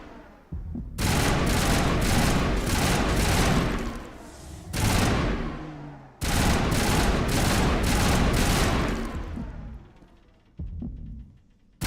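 Sustained automatic gunfire roars through long, loud bursts with brief pauses between them, heavy and close, as a player shoots at a node in the video game Mass Effect; no talk over the shooting.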